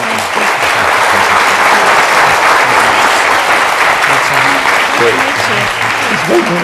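Loud, sustained audience applause for a panel at a foundation competition launch event, a thick wash of clapping from a full room, with a voice speaking over it near the end.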